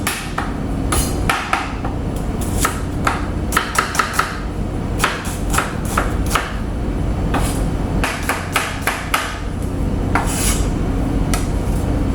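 Onion is chopped on a board for shrimp broccoli with a knife, making loud, close rapid bursts of sharp chops separated by brief pauses.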